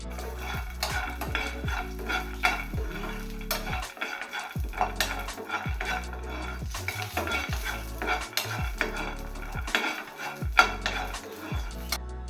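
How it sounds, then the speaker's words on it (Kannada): About three tablespoons of peanuts fry in oil in a pan for a Brahmin-style neer chutney, with steady stirring and repeated metal scraping and clinks of a spoon against the pan over a soft sizzle. "ಈಗ ನಾನಿಲ್ಲೊಂದು 3 ಟೇಬಲ್ ಸ್ಪೂನಷ್ಟು ಕಡಲೆ ಬೀಜನ ಹಾಕ್ಕೊಂಡು ಫ್ರೈ ಮಾಡ್ಕೊತಾ ಇದ್ದೀನಿ."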